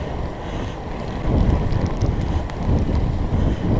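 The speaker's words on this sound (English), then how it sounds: "Wind hasn't died that much. We're in an open field, getting hit with a cross headwind." Strong crosswind buffets the microphone during a night fat bike ride on a Surly Moonlander in an open field, a loud continuous low roar with gusts swelling louder midway.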